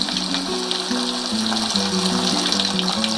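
Potato nuggets sizzle steadily in oil over a low flame, a continuous close hiss and crackle with a humming tone underneath.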